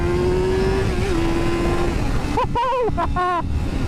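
A Yamaha R7 motorcycle pulls hard in first gear, its engine note climbing in pitch toward high revs, loud and close. A voice exclaims over the engine partway through.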